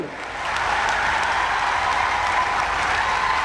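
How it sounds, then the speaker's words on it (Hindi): A standing audience at a college statue-unveiling ceremony gives the chief minister loud, sustained applause, many hands clapping together in a dense, even roar that rises quickly and holds. "और तेज ताली बजनी चाहिए।"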